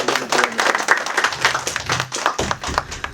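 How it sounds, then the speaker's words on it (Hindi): An audience at a Hindi kavi sammelan poetry gathering breaks into applause, a lively burst of many hands clapping with distinct individual claps standing out, steady and fairly close throughout. "तालियां बजा दें।"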